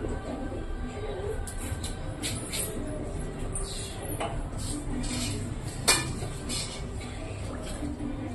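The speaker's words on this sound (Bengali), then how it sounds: "দিয়ে দিলাম কড়াইটা বসিয়ে" A kadai wok is set down on a home kitchen stove with light metallic clinks and knocks and one sharper clank, all heard over a steady background hiss.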